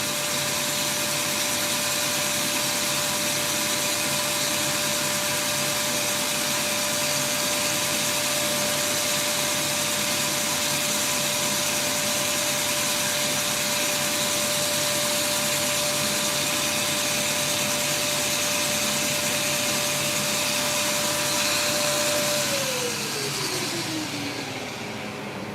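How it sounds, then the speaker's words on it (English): A farm vacuum pulling material through a filter gives a loud, steady droning whine for about twenty seconds that then winds down in pitch, with no talking. "The vacuum pulls it right through that filter material."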